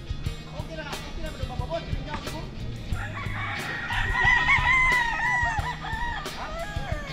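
Roosters crow and hens cluck at a terraced poultry farm, a clear crow rising midway over steady clucking, with someone talking over the birds.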